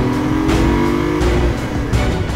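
A BMW i8's 1.5-liter three-cylinder engine growls and revs steadily, loud and close, with a deep throaty drone that swells a few times without letting up.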